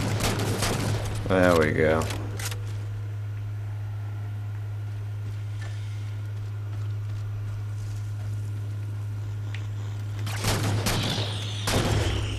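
Halo 4 gunfire crackles in short, loud bursts at the start and again near the end, over a steady low hum, while someone talks between the volleys.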